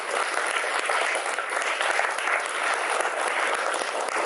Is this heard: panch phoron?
no